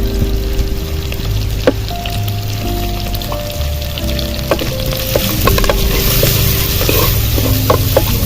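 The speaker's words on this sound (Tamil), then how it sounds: "எல்லாம் சும்மா ஒரு நிமிஷம் வதக்கிட்டா போதுங்க" Curry leaves and asafoetida sautéing in hot oil for a horse gram rasam, a steady close crackling sizzle with scattered pops and occasional stirring scrapes, growing busier toward the end.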